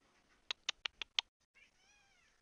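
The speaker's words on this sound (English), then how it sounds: "Good kitty." A house cat meows in a quick run of five short, sharp calls close by, followed by a pause and one softer, longer drawn-out meow.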